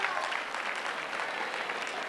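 A comedy show audience claps steadily for a couple of seconds, a dense, even patter of applause from a crowd in a room.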